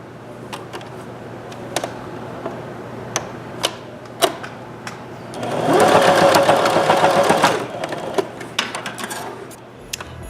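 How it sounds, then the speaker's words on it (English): A sewing machine stitches the bottom of a folded fabric loop, running in one loud, steady burst after scattered clicks and handling taps. "I'm just going to stitch the bottom together."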